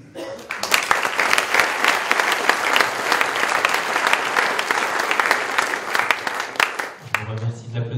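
A crowd at a public political meeting in Oullins, France, breaks into loud, sustained applause lasting several seconds, then fades as a voice resumes speaking.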